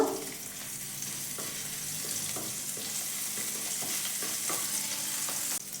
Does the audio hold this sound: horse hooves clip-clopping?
no